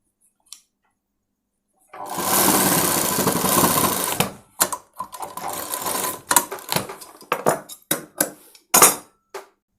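A sewing machine stitches a school uniform coat, first a long steady run of rapid needle chatter, then a series of short stop-start bursts with quiet gaps between.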